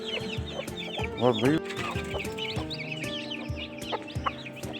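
A hen clucks near her chicks in a farmyard, with repeated quick clucks and chirping calls from the brood, close and lively, while a man briefly exclaims over the birds.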